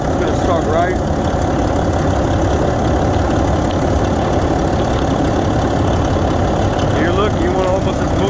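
A Volvo VNL semi truck's diesel engine idles steadily and loudly throughout, a constant low rumble with some faint background noise.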